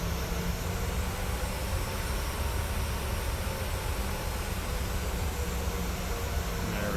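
A Boeing 737-800BCF cargo jet taxis at Tallinn Airport in a flight simulator game, its engines giving a steady, even broadband roar with no talking over it.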